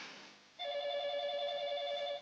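A telephone rings with one sustained electronic bell tone that starts abruptly after a short quiet moment and holds steady, fairly faint indoors.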